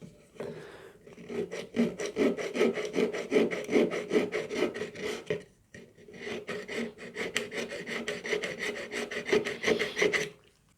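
Fretboard markers are hand-filed on a bench pin against a stop block, making rapid, rhythmic rasping strokes in two close, clear bursts separated by a short pause, with no speech.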